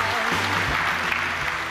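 An audience at the Vitamin Club show claps to welcome guests, a short burst of dense, continuous applause with faint tonal sound running underneath.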